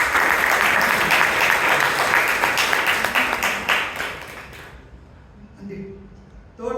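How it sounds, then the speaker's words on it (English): An audience at a Toastmasters club meeting claps in a full, close round of applause for several seconds that fades out near the end, followed by faint room sounds and a brief noise. "can we have a big round of applause for"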